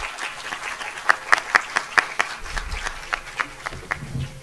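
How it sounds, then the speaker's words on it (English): Audience applause at a Bharatanatyam recital, with scattered hand claps in a moderate, uneven rhythm, fairly close and moderately loud, building briefly and then thinning out. "please give a big round of applause for them."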